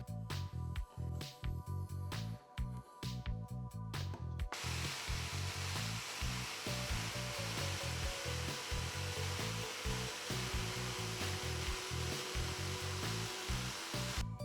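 A jigsaw cuts a glued-up wood blank for an omelette flipper, giving a continuous loud buzzing roar with a fast pulsing rhythm that grows harsher partway through.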